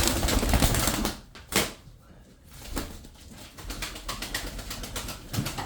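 Tumbler pigeons in a loft give soft, low cooing calls amid rustling, scattered clicks and wing flaps, fairly quiet and close.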